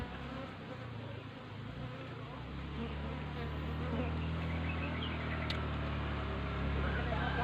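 Honey bees buzzing around a hive as they are moved in, a dense continuous drone close by that swells slightly louder partway through, with faint background noise.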